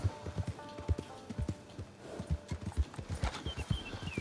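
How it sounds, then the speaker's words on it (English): Hooves of a riding horse clip-clop in Red Dead Redemption 2 Online, a quiet, steady rhythmic beat of distinct hoof strikes on the ground, with a faint whinny and soft background game sounds. "So we've got to ride this crappy horse."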